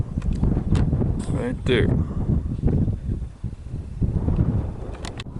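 Wind gusts hard across the microphone at Petrified Forest, a rough, buffeting roar rising and falling throughout, with a person speaking briefly over it.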